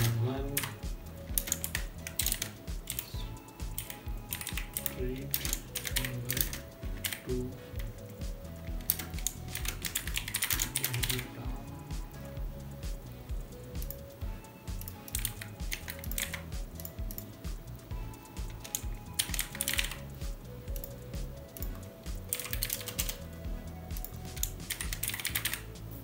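Typing on a computer keyboard while entering a house address into an online contributor account sign-up form, with steady bursts of close, crisp key clicks continuing throughout and pausing briefly between words.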